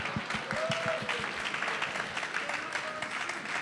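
A panel audience at an IoT and health expo breaks into applause, a steady close round of clapping lasting several seconds with some murmured talk mixed in.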